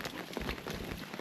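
Rain drums steadily on an umbrella outdoors, a dense close patter of drops throughout the short stretch with no voices.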